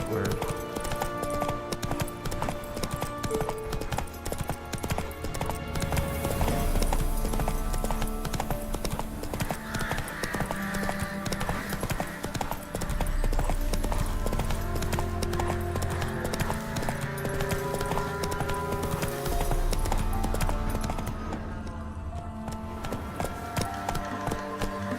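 Horse hooves clip-clopping at a steady trot in the Witcher 3 video game, a continuous rhythmic beat over game music with someone speaking briefly.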